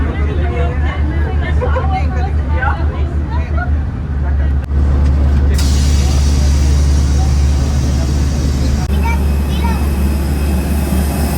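Airport bus at a bus gate, with a steady low engine hum that turns louder and fuller after the doors shut, under chatter and background crowd noise.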